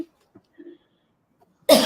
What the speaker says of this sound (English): the cough came up